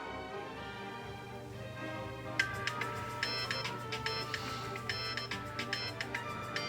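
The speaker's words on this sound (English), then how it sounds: "At 7 o'clock, Silas wakes up to his first alarm." A phone alarm goes off in the morning, a repeating electronic ringtone pattern of bright pulsed tones over a low steady background hum, continuing steadily with no talking.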